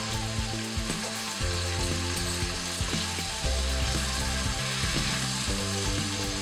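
Onion and garlic paste fries in a pan, a dense, steady sizzle, with low humming tones layered underneath that shift in pitch at intervals, continuous and close.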